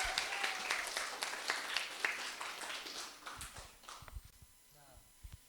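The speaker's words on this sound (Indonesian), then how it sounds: "bisa beri aplaus sekali lagi ya teman-teman." Classroom applause from a group of students, a burst of scattered clapping that fades after a few seconds into quieter taps and a faint voice.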